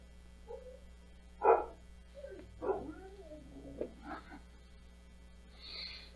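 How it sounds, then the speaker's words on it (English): A dog on the other side of a closed door gives a few muffled, separate barks, faint and somewhat distant in an otherwise quiet indoor room with a low hum. "I've got a dog right outside that door, and as soon as I start talking, he starts barking."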